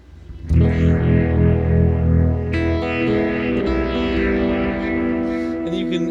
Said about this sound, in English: Here's a rotary.